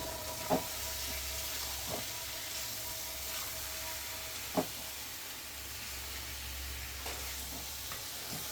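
Potatoes and bitter gourd fry in a pan with a faint, steady sizzle, broken by a few soft stirring clicks and scrapes, heard quietly with no talking.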